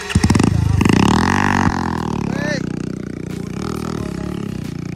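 A Pulsar 150 motorcycle revs hard on a dirt track, its loud, close engine rising and falling, with a voice briefly heard over it.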